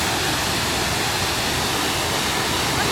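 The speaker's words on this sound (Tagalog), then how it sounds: "Napakaganda ng falls." A waterfall roars with a dense, unbroken rush of falling water, loud and close, with no other sounds standing out.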